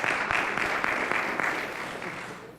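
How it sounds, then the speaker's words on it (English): A brief round of audience applause at a school board of education meeting, steady mid-distance clapping from a room of people that slowly thins out over a couple of seconds. "worthy of a round of applause"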